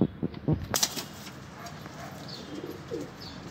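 Soft low pigeon coos close by, mixed with a few handling noises and quiet bird chirps.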